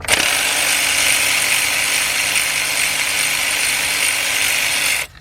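A 3/8-drive ratchet with a 13 mm deep socket loosens a bolt on a 2003 Dodge Grand Caravan 3.3, a loud, close, steady rapid clicking of the pawl for about five seconds before stopping abruptly.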